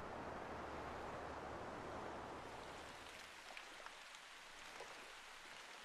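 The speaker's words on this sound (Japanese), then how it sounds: "雨が降ってきた。" Rain falling at a ferry terminal in the disaster-survival game Zettai Zetsumei Toshi 4 Plus, a dense, steady hiss of downpour that thins partway through, leaving scattered drips and splashes.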